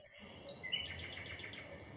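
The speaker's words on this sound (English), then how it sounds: "Oh yes, I hear the birds." Birds chirp in a video played back over a call, faint high tweets repeating over a low hum and background noise for a couple of seconds.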